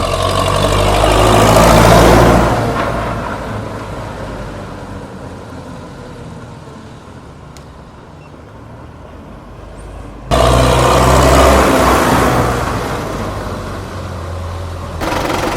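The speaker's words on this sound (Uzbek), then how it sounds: "Motorlari ham o'ta tiniq holatda ishlayapti." A Belarus 80X tractor engine runs steadily at idle with a deep, even rumble, rising briefly louder near the start and again toward the end, close and continuous with no talking.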